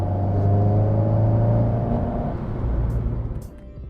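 Alpine A110 sports car engine, close and loud, holding a steady droning note that eases off as the revs drop, with rumbling exhaust underneath and no speech.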